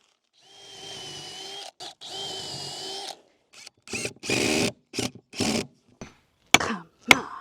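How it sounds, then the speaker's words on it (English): A cordless power drill whirs steadily as it drives a screw into a wooden raised garden bed frame, first in a long run, then in short bursts and stops with clicks at the end. "I'm going to screw that in"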